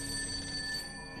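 A telephone rings in a French crime drama, a steady electronic ring with bright sustained tones that runs the whole moment and fades slightly at the end, heard alone without voices.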